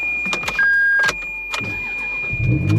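A Ferrari engine cranks on a jump pack and tries to catch, with a whining starter, a couple of sputtering bursts, then a rougher rumble at the end.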